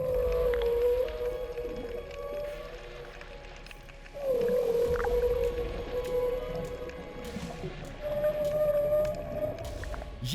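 Long, wavering tonal calls from a humpback whale travelling with its calf in the Arabian Sea, repeated in several drawn-out phrases over steady underwater rumble and occasional faint clicks.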